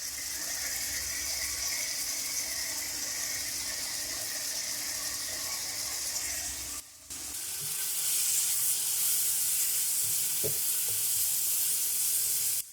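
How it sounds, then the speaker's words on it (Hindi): Crushed browned onions dropped into a pan of hot oil for mutton korma set off a loud, steady sizzle that runs almost the whole time, with a brief dip partway through and a few faint clinks. "हाथों से हम इसको क्रश करके इस तरीके से डालेंगे।"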